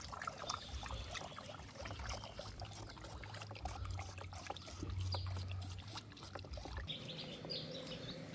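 Liquid fertilizer is poured around the base of small plants, making a faint, continuous trickle. Birds chirp quietly in the background.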